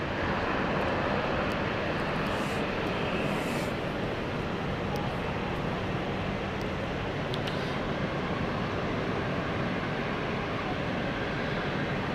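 Passenger plane taking off at London City Airport, a steady broadband jet roar heard from a distance, sustained and even for the whole stretch with no talking over it.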